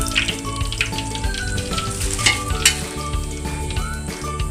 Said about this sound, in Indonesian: Oke, lanjut kita goreng bawang perainya.